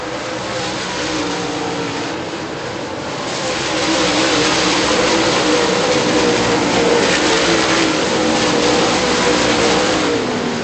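Super late model race cars roar around a speedway during a feature race, a loud, continuous engine drone that builds and stays high as the field runs, with no voices over it.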